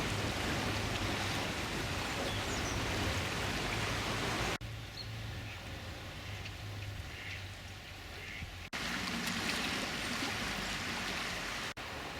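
A swollen river, the Loos, flows fast after heavy rain, a steady broadband rush of water running close by for the whole stretch with no voices over it.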